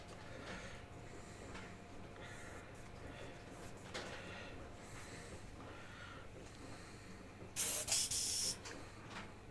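An airbrush hisses in a brief loud burst near the end, lasting about a second, after a quieter stretch of faint background noise and small handling sounds.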